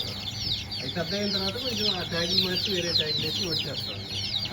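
Pandem fighting-breed rooster and hens cluck in a repeated, close-up chorus at a breeding farm, with a voice talking briefly over the calls.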